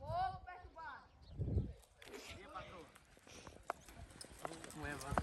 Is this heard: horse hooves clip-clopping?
yes